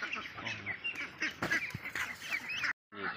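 Laying ducks on a duck farm during morning egg collection quack and honk in an overlapping, fairly faint chorus, the calls coming in busy bursts before a brief silence.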